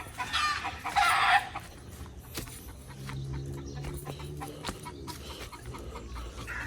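A rooster and other farm chickens cluck and call nearby on a rural property, with an early burst of noise from the birds. Steady low clucking follows, and a faint crowing rises over the yard sounds.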